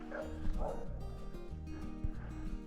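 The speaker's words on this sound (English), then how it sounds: "And there's somebody's dog." A dog barks faintly a few times on a soft dirt hiking trail in the Desolation Wilderness near Aloha Lake, the short yips distant and low against a rumbling outdoor background.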